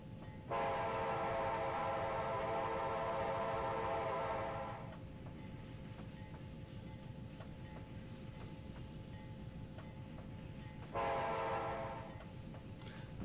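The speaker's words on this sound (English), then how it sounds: "I'm just going to sound the horn for this grade crossing" Horn of a locomotive in a train simulator game sounds for a grade crossing in two loud sustained blasts, a long one and a shorter one, over steady rumbling train and track noise.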